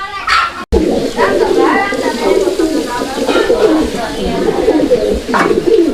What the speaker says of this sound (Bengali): ডাকটা দেখছেন কত অসাধারণ ডাকে এটা হচ্ছে রেড চেকার রেসার নর